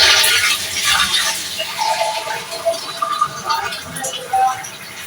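Water poured into a cooking pot glass by glass while making beef pulao, a broad splashing, gushing pour that stays fairly steady and close for several seconds.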